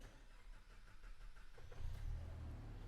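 A Land Rover Defender with a brand-new petrol engine starts up: low background rumble, then the engine catches near the two-second mark and settles into a steady, fairly loud idle.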